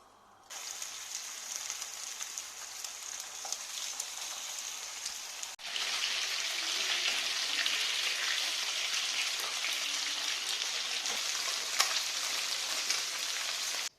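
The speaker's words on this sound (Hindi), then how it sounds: "हमने आधा कप ऑयल डाल दिया है, कुकिंग ऑयल, और फिश फ्राई कर लेंगे" Fish frying in half a cup of cooking oil, a steady dense hiss and crackle that jumps louder partway through and keeps sizzling evenly, close up with scattered pops and no talk.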